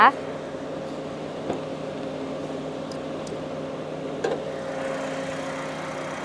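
A 2020 Toyota Yaris 1.2 Sport engine idles steadily with a smooth, even hum and a couple of faint clicks, heard alone without talking.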